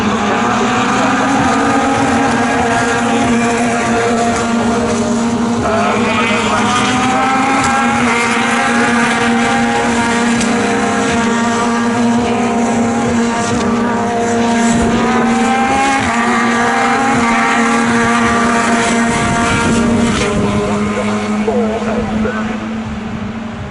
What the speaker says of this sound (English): Pedersen and by Verhagen and by Chai Mongol, so it's 5 cars in the lead as they head into Redgate